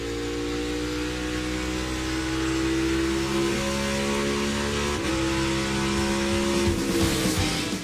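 NASCAR Cup Series stock cars lapping in practice at Phoenix for the 2022 championship race, a steady loud drone of engines passing near with a sharper surge of revving toward the end.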